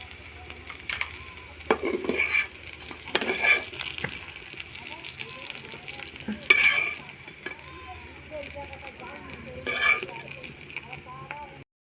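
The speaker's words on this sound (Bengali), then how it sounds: "এই বড়াগুলো ভাজা হয়ে গেছে দু পিঠটা দেখুন এবার তুলে নেব" Palm fruit fritters sizzle in oil in a pan, a steady crackling fry running throughout with occasional stirring and scraping sounds, while someone talks over the cooking.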